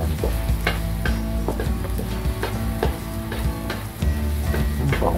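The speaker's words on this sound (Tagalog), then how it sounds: "Yung sunod natin ng garlic. Yan, bawang. Gisa lang natin yan." Garlic sautés for pork bopis in a pan with steady loud frying and sizzling, while a utensil scrapes and stirs in a regular rhythm of repeated knocks, heard close with no talk.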